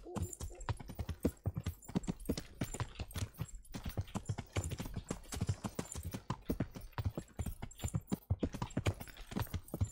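Horse galloping through woods at night in Kingdom Come: Deliverance, hooves pounding in a fast, steady clip-clop rhythm, close and continuous throughout.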